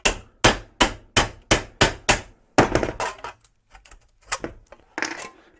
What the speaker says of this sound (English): beat it into shape with a hammer, and that will give you the circular shape